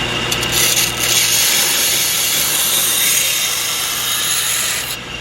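A belt grinder running a 120 grit belt grinds a hardened steel knife blade held in a jig against the platen, giving a steady, loud abrasive hiss that holds evenly through the whole stretch, with no talking.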